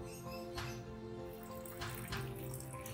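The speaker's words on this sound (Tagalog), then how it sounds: "bibiligan muna tubig yan." Water is poured onto freshly planted squash seeds, a faint steady trickle and splash throughout with no speech.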